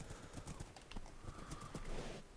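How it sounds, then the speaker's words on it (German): A horse in Minecraft, swimming through water in snowy terrain, with rapid clip-clop hoofbeats and a faint whinny over a steady watery background. "Oh, mein Pferd ertrinkt."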